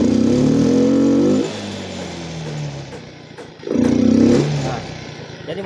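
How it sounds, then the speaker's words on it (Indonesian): A Yamaha Mio M3 scooter engine that sounds flat and bogs down is revved at full throttle twice, each rev a loud droning burst that sputters and falls back to a rough idle. "Nah, jadi motornya ini ketika saya gas, saya tarik gas, suara mesin itu atau RPM-nya putaran mesin tidak langsung kencang."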